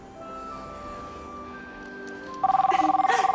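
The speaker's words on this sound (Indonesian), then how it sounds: "Ada telepon" A telephone rings in a beauty salon: a rapid pulsing electronic trill cuts in near the end, loud and close, over a steady background hum of tones.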